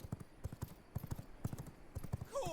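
Horse hooves clip-clop in a fast, steady rhythm in the video game V Rising, close and crisp, ending in a short whinny.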